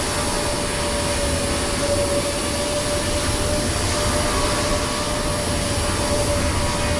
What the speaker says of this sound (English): I hear some nice jet engines over there